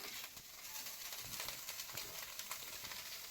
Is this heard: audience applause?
no